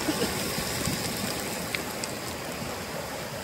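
Turbulent floodwater of the Gola river rushes and churns steadily after rain, a loud, close, continuous roar of fast-flowing current eroding its banks.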